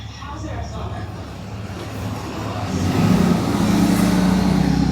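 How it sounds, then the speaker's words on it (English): A big truck rumbles past outdoors, its low engine drone growing louder and nearer partway through, then holding steady, while someone talks nearby. "a big truck."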